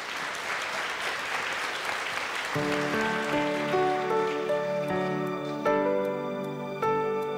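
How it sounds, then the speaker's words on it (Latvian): Applause from a television studio audience at a Latvian entertainment show swells loudly and steadily as a singer is welcomed onstage, then music begins to play beneath the continuing clapping. "Ar aplausiem!"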